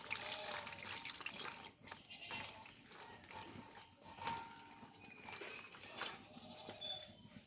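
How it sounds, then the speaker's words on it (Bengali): Eggplants are rinsed by hand under running water in a home kitchen, giving a steady splashing and gurgling stream with occasional louder sloshes and no voices. "এবার বেগুনগুলোকে খুব ভালোভাবে জল দিয়ে ধুয়ে নেব।"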